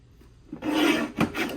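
A paper trimmer slices through bright blue paper strips in a single rasping pass, a close, dry scrape followed by a shorter second stroke.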